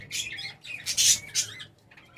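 Pet budgies in a breeding colony chirp and chatter in short, bright, close bursts, several quick squawky calls in a row with brief pauses between.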